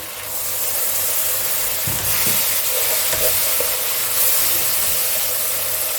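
Spice paste of turmeric, chilli and Kashmiri chilli powder with spiced water, frying and being stirred for Bengali mutton curry, a loud, steady sizzle and hiss with occasional scraping knocks from the stirring.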